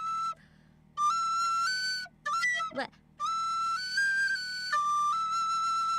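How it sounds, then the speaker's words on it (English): A penny whistle plays a simple tune alone, its clear bright notes held and stepping between pitches, with short pauses and one brief breathy burst in the middle. "it's a penny whistle"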